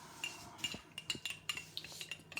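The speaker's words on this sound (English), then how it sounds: "Stir it well." A spoon stirs cornstarch mixed with cold water in a small bowl, producing a quick rhythmic series of light clinks and scrapes, close and fairly quiet, with no talking.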